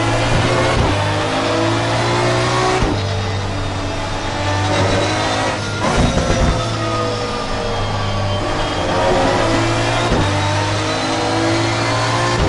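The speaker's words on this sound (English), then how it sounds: "we got a microphone setting up so you can hear the cars come by" Race cars in Assetto Corsa Competizione passing the start-finish line, a loud steady engine drone with several cars sweeping by one after another, each pass rising then falling, near and continuous with no talk.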